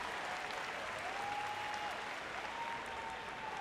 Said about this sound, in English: The crowd really getting involved, very generous in their support